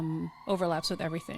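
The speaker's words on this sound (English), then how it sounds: "I don't know if you can hear the sirens in the background." A faint siren wails in the distance beneath continuous close talking, its steady tone threading through the conversation.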